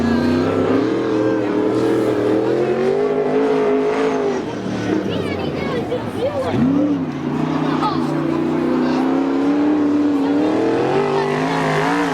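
An IMCA 360 sprint car with a stealth chassis and 360 Chevy engine roars around a dirt track at a 1995 race, a loud sustained engine drone that dips and swells with the laps as an announcer talks over it.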